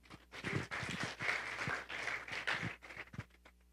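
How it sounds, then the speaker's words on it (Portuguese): A church congregation breaks into applause, many hands clapping together in a dense, sustained burst that swells and fades over a few seconds, heard from within a large room. "Dá uma salva de palmas para os irmãos."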